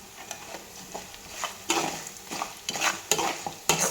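Semiya upma with onions and salt is stirred in a pan, giving scraping spoon strokes and soft sizzling that quicken and grow louder toward the end, close by and without voices.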